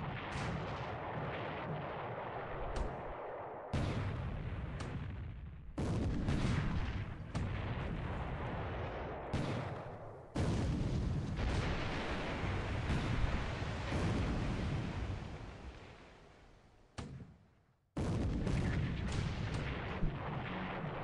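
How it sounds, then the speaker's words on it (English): Naval gunfire from 4-inch shells hitting destroyers in a World War II wargame, a series of heavy booming blasts in quick succession separated by brief silent gaps, loud and close. "That's 2 4-inch shells into both my destroyers."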